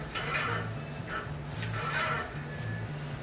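Tritech airless sprayer laying down Renner wood coating at an onsite job, a steady close hiss running in bursts with brief pauses, over a low pulsing machine hum.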